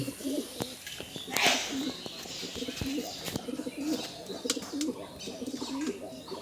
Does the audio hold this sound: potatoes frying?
no